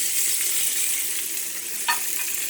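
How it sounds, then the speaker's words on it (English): Burgers sizzle steadily in a hot pan, a constant close hiss of frying fat with one brief scrape or clatter near the end. "See that clear juice coming up out of there? That tells me we got a done burger."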